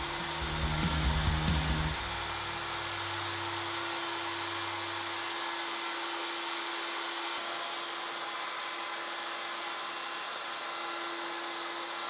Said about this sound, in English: With a 1/4 inch radius round over bit, I'm going to round over all of the edges of the legs and the lower edges of the rails.